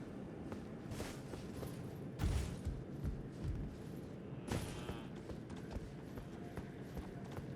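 Torrent, the spectral horse in Elden Ring, clip-clops at a walking pace. The hoofbeats are faint and regular, with a few heavier thuds over a quiet ambient bed.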